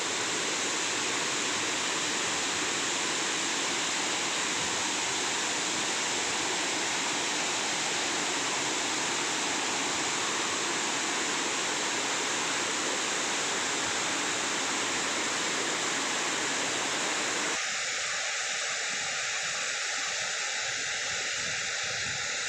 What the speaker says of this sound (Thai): นี่คือ น้ำตกแม่แอบนะครับ อยู่ที่บ้านแม่แอบตำบลบ้านทับอำเภอ แม่แจ่มจังหวัดเชียงใหม่นะครับ